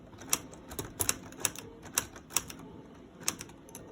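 Keys are pressed on a working Lego typewriter made of plastic bricks, giving a string of about ten sharp, close plastic clacks in an uneven rhythm over a quiet background, with no talking.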